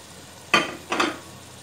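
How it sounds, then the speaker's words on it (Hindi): Cut potatoes sizzle in a spiced masala while a utensil stirs them through the pan, two quick scraping bursts of stirring over a faint background sizzle, with no one speaking. "अब हम इसमें कटे हुए आलू ऐड कर देंगे और उनको मसाले में अच्छी तरह से भून लेंगे"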